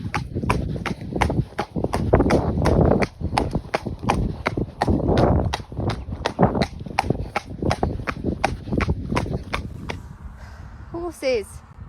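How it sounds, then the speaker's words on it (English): Horses walking on a hard surface with a steady, rapid clip-clop of hooves, close and loud, carrying on for several seconds before fading out near the end. "Horses."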